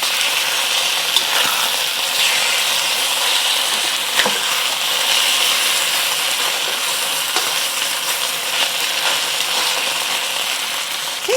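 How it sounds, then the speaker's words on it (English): Food searing in a hot pan for a Cantonese dish, a steady close sizzle and hiss running throughout with occasional light clinks and taps as the pieces are turned. "Just trying to get a good sear on it on one side before flipping it over."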